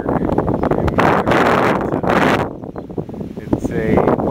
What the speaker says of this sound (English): Here's a wind generator.